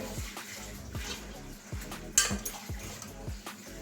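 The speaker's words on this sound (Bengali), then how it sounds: "সসপ্যানের মধ্যে জল নিয়েছি জলের মধ্যে কেটে কেটে ভিজিয়ে রাখবো" Mushrooms are cut and dropped into a saucepan of salted water, a series of soft regular knocks and small splashes with light clinks of metal, close and quiet.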